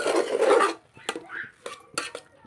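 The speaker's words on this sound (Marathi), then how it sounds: "आता एकसारखं ह्या भोपळ्याच्या खिसाला आपण एकसारखं असं हलवत राहायचं आहे" Grated red pumpkin stirred in a metal pan with a utensil, a steady scraping swirl followed by several sharp clinks and scrapes, close and fairly loud.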